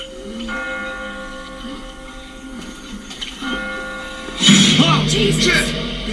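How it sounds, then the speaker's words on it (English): Church bells ring through a scene in The Walking Dead Season 1 video game, their sustained tones sounding twice at a steady pace before a louder, noisier burst of game sound breaks in near the end. "I just got spooked by those bells"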